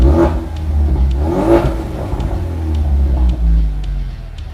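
A car engine revs up close in a few surging bursts that rise and fall over a steady low rumble, loud and alone without any talking.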